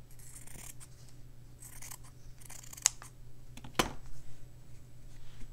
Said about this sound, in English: I'm going to actually just trim it down a little further.